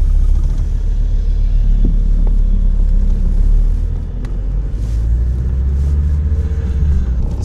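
A 2003 Fiat car with a 2.4-litre diesel engine drives along with a loud, steady low rumble and drone, easing slightly midway, with no one talking.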